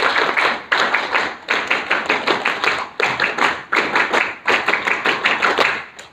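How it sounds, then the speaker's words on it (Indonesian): Groups of sharp hand claps in the scout clapping pattern repeat in a steady rhythm, several quick claps per burst, bright and close with short pauses between. "Untuk Pak Indrajaya 2 kali tepuk pramuka"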